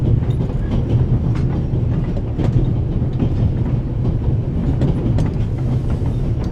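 Moving train in the game The Raven Remastered, a steady loud rolling rumble with rhythmic clickety-clack of wheels over rail joints, continuous and close throughout with no talk.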